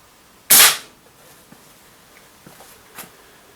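A single sharp shot from a Mad Max Contender break-top gas pistol rings out at close range, followed by a few faint clicks and a small tap near the end.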